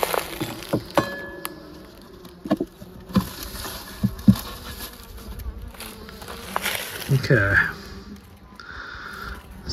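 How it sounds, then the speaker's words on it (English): Honeybees hum softly around a Layens hive while wooden frames knock and clink, with scattered taps and shuffling close by. "So we've got some bees, not a lot."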